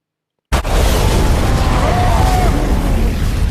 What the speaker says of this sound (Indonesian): Terjadi adegan kejar-kejaran dan tembak-tembakan di jalan raya.